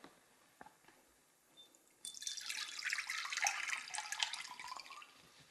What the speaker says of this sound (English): rinse and drain the seeds inside the jar by using this screen